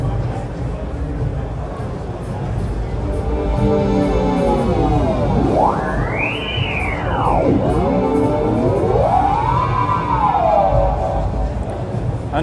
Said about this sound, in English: And then we have the frequency shifter, which is kind of like a deluxe version of this.